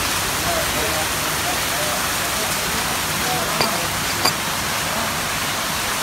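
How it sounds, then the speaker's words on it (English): Steady rain pours down around a restaurant in Chiang Mai, Thailand, a dense continuous hiss that holds at an even level throughout, with a couple of faint sharp clicks near the end. "It's raining in the restaurant."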